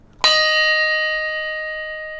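A single bell is struck once, loud and close, then its bright tone rings on and fades slowly in otherwise near silence.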